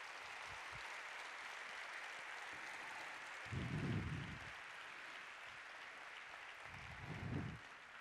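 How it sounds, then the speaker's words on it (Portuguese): A lecture audience applauds, a faint, even wash of clapping that holds steady, with two low rumbling thumps rising briefly above it. "peço para todos vocês uma grande salva de palmas."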